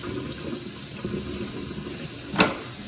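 Running water rinses a cast iron skillet in a kitchen sink, a steady close splashing flow with a brief louder knock near the end.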